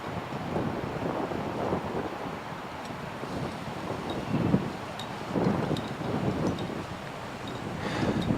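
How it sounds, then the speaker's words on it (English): Strong wind buffets a high rock wall during a multi-pitch climb, roaring and rumbling against the microphone steadily throughout with gusty swells. "As we climbed the successive pitches, it started just getting a little bit windier."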